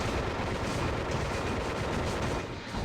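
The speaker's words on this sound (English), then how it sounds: "Just going to keep shooting our pistol at him." Rapid pistol fire aimed at a boss in the video game Disruptor, a dense unbroken barrage of loud shots and impacts filling the whole stretch with no pauses.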